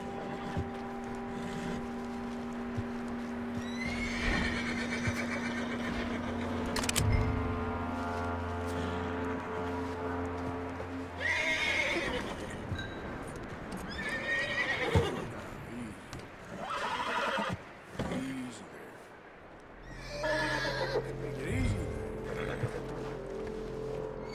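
A horse in the video game Red Dead Redemption 2 whinnies loudly several times, with hoofbeats and some shuffling in between, close by and without talk.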